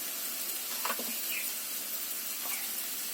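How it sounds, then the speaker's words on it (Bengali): Spice paste fries in oil as turmeric powder is added, giving a steady, fairly quiet sizzle with a few faint scrapes and clicks over the hiss. "পরিমাণ মতন হলুদ গুঁড়ো দিলাম"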